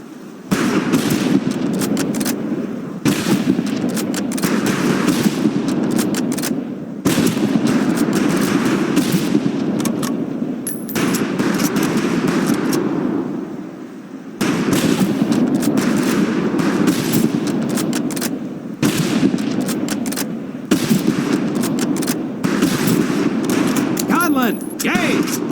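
Rifles crack in rapid volleys at long-range targets on a shooting range in the Medal of Honor Pacific Assault video game, loud dense bursts of gunfire with brief pauses between strings of shots.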